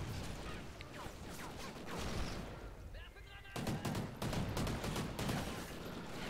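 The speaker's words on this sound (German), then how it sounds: "der Sound ist ja irgendwie voll geil von den Waffen" Dense, continuous gunfire from weapons in Call of Duty Ghosts rattles loudly in rapid bursts, with heavier automatic volleys toward the end, under occasional talk.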